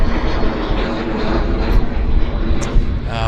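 WestJet airliner taxiing at Vancouver Airport, a steady broadband engine roar held at a constant loud level from start to finish, with no one talking.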